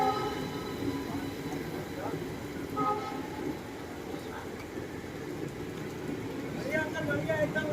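Two Ranikhet Express trains crossing each other on the line: a steady, continuous rumble and clatter of rolling stock that fills the whole stretch, with faint horn-like tones rising above it.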